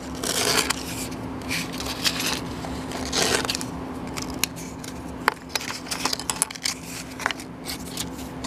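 Scissors cut a piece of sandpaper up close in a series of crisp, irregular snips and rustles. Between the cuts come soft handling noises over a faint steady hum, with no talk.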